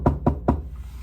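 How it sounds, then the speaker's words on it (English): Three firm knocks on a door in an even, quick rhythm, close and loud, followed by a quiet room tone with no talking. "all of a sudden there's a knock at the door"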